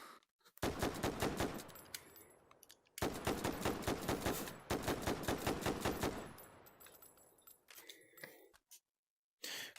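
Rapid rifle fire in the VR shooter H3VR, two long sustained bursts of closely spaced loud shots with a brief pause between, followed by metallic handling clicks as the bursts end.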